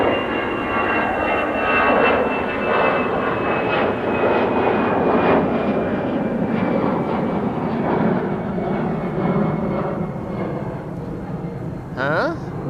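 An EasyJet jet airliner departs Amsterdam Schiphol Airport, its loud sustained engine roar rumbling close and steady before easing slightly near the end, with a voice talking over it.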